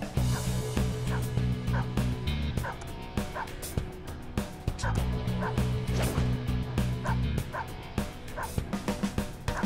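Dog barking in Persona 5 Royal, a run of repeated sharp yips and barks over looping game music, close and fairly loud, with faint voices in the background.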